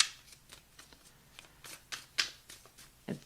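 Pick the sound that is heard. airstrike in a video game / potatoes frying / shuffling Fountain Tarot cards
shuffling Fountain Tarot cards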